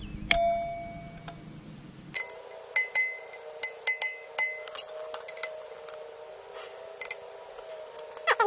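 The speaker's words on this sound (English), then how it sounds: "I have to flatten that washer out a bit." Hammering a washer flat on the rear sprocket of a Yamaha TTR 125 dirt bike: a series of sharp metallic strikes with ringing decays, some in quick pairs, close and clear over a low hum.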